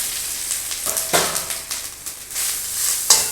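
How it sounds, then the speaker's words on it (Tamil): Grated coconut sizzles in hot oil for a tamarind chutney, a steady close crackle with sharper spits and bursts as the pan is stirred. "இந்த எண்ணெயிலே இந்த தேங்காய் பூவை போட்டுக்கிறேன்."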